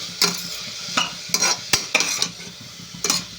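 Chopped vegetables and salt frying for vegetable upma, with a utensil scraping and stirring the pan in bursts over a soft sizzle, close and fairly loud, with no voices.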